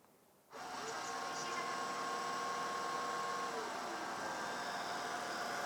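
Midea V12 robot vacuum cleaner fan running in low-noise mode, a steady even whir that starts abruptly after a brief quiet moment and holds constant, close and moderately loud, with no talking.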